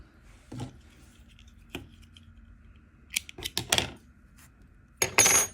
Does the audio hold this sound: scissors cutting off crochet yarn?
yes